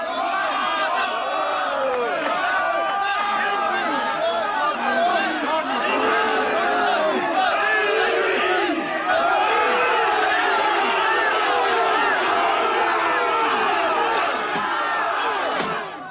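A crowd roaring and shouting at a 1983 World's Strongest Man competition during a 535-kilogram lift attempt by a young Icelandic strongman, a dense continuous wall of cheering and yelling voices that holds loud throughout.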